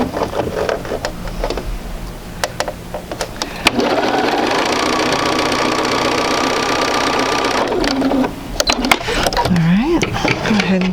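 A sewing machine stitches a quilt seam, its fast steady whirring run lasting several seconds, with someone talking before and after it.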